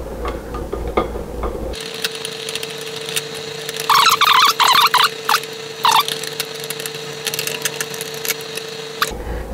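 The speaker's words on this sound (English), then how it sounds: "And now we'll screw it down just till these pieces touch the wall itself." An electrician screwing a light switch down into a wall box, with a steady whirring drive hum and bursts of scraping, ticking screw noise as it tightens, close and without talk.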